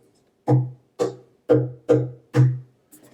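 Five resonant, bassy hits on a tongue drum built into a guitar's lower bout ring out at a steady pace, with a sixth faint one at the end, each note warm and decaying quickly, no talking.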